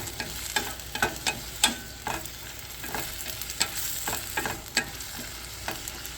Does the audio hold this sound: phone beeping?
no